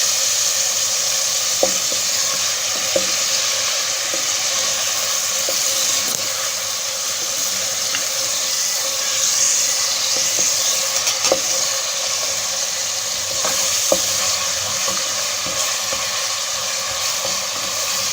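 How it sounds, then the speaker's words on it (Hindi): Ginger and garlic frying and being stirred in a pot while cooking Kabuli pulao, a steady loud sizzle with scattered clicks of the spoon against the pot, heard alone without talk. "अब ये थोड़ा मैं भूनूंगी ताकि इसका कच्चापन ख़त्म हो जाए।"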